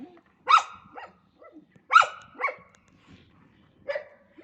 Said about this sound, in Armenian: Արի տեսնեմ ինչի ես հաչում